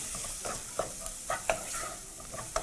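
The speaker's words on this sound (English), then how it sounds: "And you're going to proceed to fry those together" Spices including a small pinch of paprika powder with seeds frying in a pot while being stirred, a close sizzle broken by several sharp scrape-and-clink accents from the spoon against the pot.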